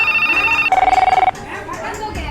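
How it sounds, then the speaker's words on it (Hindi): A telephone rings in short repeated bursts, a clear electronic ringing tone pulsing loudly for about half a second, with a busy background of overlapping chatter. "फोन कॉल पर फोन कॉल आ रहे हैं।"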